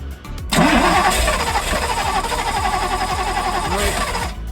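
Ferrari 308 engine cranking and catching with its fuel injector removed, a sudden loud start after a brief pause, then a steady, rough, sputtering run that holds throughout.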